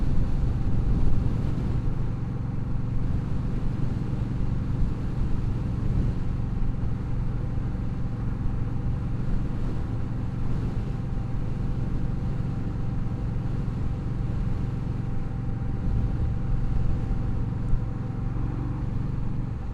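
Indian Scout Bobber 20 motorcycle underway, its V-twin engine and exhaust holding a steady, loud low rumble mixed with wind rush, continuous for the whole stretch with no talk.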